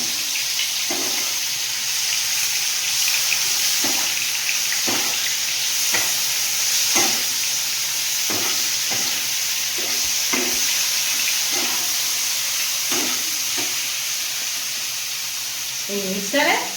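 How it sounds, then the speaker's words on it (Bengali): Prawns frying with ginger and garlic, a steady close sizzle running throughout, with intermittent scraping clicks from stirring. "এই চিংড়ির মধ্যে একটুখানি আদা রসুন দেবো"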